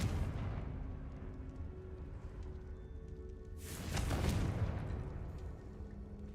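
The Confringo fire spell in Hogwarts Legacy bursts in a loud booming explosion a few seconds in, rising over a steady rumbling game background and then fading.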